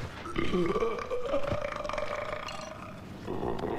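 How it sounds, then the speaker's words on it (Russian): A long, loud, deep burp, drawn out and rumbling like a growl, followed by a second gurgling belch, close and with no other talking. "начинает беспокоить отрыжка и жуткий пердеж"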